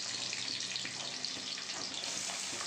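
Chopped onions hit hot oil in a pan while lote fish fries with garlic, giving a steady, close, dense sizzle that holds evenly throughout with no voices.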